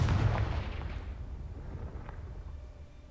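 A Confringo spell blast in the video game Hogwarts Legacy makes a muffled booming burst that decays into a rumbling tail over a few seconds, with a faint later thud.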